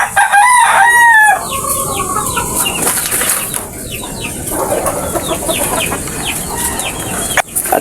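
Pet chickens, including a rooster, cluck and crow close by, with a loud crow at the start followed by repeated clucking calls and bursts of wing flapping.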